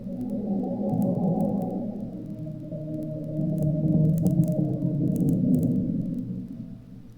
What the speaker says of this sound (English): That's the whole point of that really deep track, is I'm adding rumble.